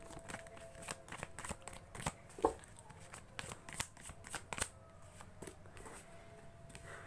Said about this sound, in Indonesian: Sebentar, akan aku tata kartunya